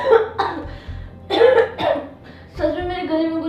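Several harsh coughs from one person come close and loud in a burst of about four fits, mixed with short spoken phrases.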